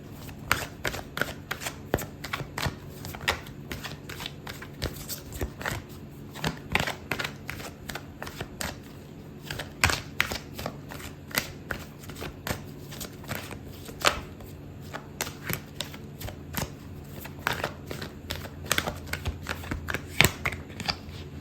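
Tarot cards are shuffled and pulled by hand in a steady, rapid stream of crisp riffling and tapping that runs close and fairly loud without a break and without any talking.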